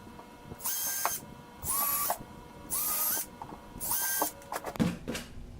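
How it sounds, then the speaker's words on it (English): A power drill with a small bit runs in four short bursts, drilling pilot holes to mount saddlebags on a 2016 Indian Scout 60 motorcycle, whining as it spins up and bites, then a few clicks and clatters at the end. "I'll always start off with a smaller drill bit to drill some pilot holes here"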